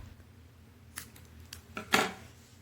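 Scissors snipping off a yarn end, a couple of quiet, close metallic clicks with a crisper cut near the end, no voices.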